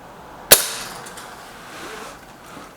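A single sharp, loud crack of a Lee Enfield Sentry rifle shot rings out outdoors on a windy day, followed by a brief fading tail and quiet background.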